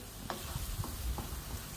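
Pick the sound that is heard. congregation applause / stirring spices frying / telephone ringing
stirring spices frying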